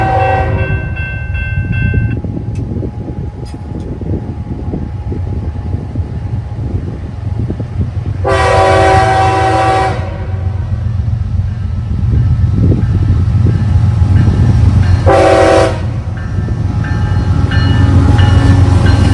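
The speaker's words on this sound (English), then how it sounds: "I would unintentionally intercept a westbound train on the Scottslong secondary of CSX" A CSX westbound grain train with an ES4 locomotive passes the Avery Road crossing on the Scottslong secondary in central Ohio, a loud steady rumble and clatter of cars, broken by two long horn blasts.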